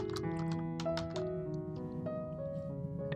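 Rapid keystrokes on a computer keyboard while a name is entered into event registration software, light irregular clicks sitting over a steady background hum.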